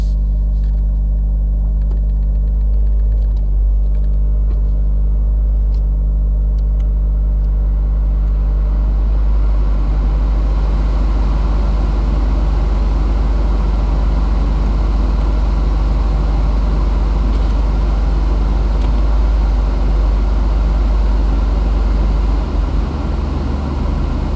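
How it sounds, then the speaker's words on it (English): A Toyota Prius hybrid car idles with a low, steady hum and rumble, constant throughout with no revving or other sounds. "so it's idling fine"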